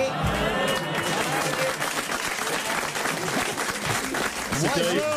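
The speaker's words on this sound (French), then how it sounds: "au lieu d'applaudir comme des moutons de panurge" Studio audience of a French radio comedy show applauds steadily and loudly throughout, a dense continuous wash of clapping with a voice speaking over it near the end.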